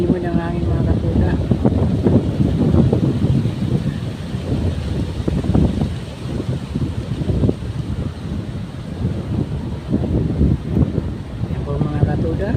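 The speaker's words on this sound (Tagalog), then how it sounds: "malakas ang hangin." Strong wind buffets the microphone in a steady, roaring rush, with a person talking over it throughout.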